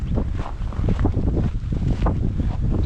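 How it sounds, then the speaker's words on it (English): Strong wind roars and buffets the microphone outdoors on a snowy, chilly day in Illinois, a continuous loud gusting rumble with no voices. "It's very windy."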